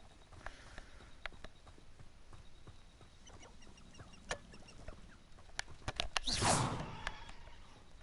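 Chicken clucking in the video game Hogwarts Legacy, with short scattered calls over an ambient game bed and a louder burst of activity near the end.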